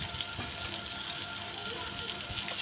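Fish, onion and egg frying together in a pan, a faint, soft crackling sizzle heard close by with a few light stirring ticks, no voices.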